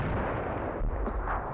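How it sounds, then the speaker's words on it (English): Artillery fire in the World War II strategy game Graviteam Tactics Mius Front, a dense, continuous rumble of distant booms and blasts with no clear gaps, with no speech. "Still, my artillery is messing them up."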